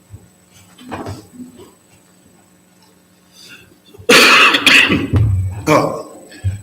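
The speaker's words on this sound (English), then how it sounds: "That cough and clear was the remnants of my entry into Melbourne winter." A man coughs hard and clears his throat at close range, several harsh bursts after some faint low murmuring, during a livestreamed synagogue service.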